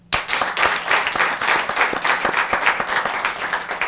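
An indoor audience claps for a ward representative at a gathering, with dense, loud applause swelling right away and holding steady for a few seconds, with no talking over it.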